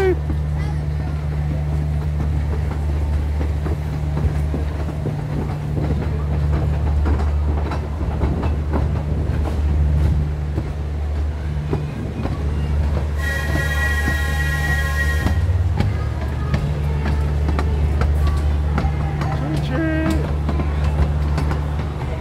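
A fairground train ride at Blackpool Pleasure Beach rumbles steadily with a low mechanical drone and faint rattling throughout, while people call and chatter nearby, with a brief whistle-like tone in the middle.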